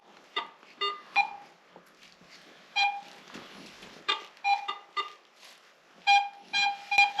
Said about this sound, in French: Les bips que vous entendez ne sont pas bons parce qu'ils grondent